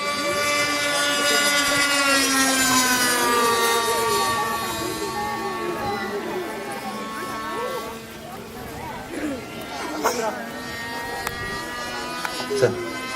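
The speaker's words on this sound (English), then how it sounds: "Plane is coming to you from the left to the right. Inverted and low." A stunt airplane at an air show flies inverted and low from left to right, its engine roaring loud then easing off as it passes, with a commentator talking throughout.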